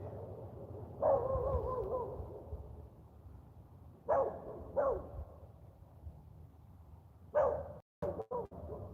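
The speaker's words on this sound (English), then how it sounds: "Oh, good, the dog's barking." A dog barks indoors, a few sharp isolated barks spaced several seconds apart at moderate distance over a low background hum, with a quick cluster near the end.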